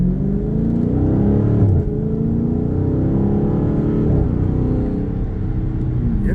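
A four-door sedan engine idles and revs with a deep exhaust rumble on a cold morning, steady and loud with a slight dip in pitch partway through, heard close with no talk.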